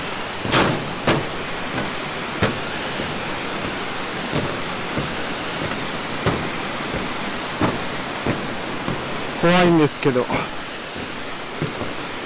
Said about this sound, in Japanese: 滝が綺麗ですごいいいですね。